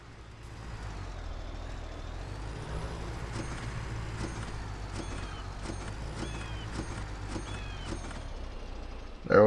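Truck air brakes hiss in Farming Simulator 17 gameplay, a long continuous hiss and rumble with repeated short clicks and brake releases throughout, ending in a sharp burst.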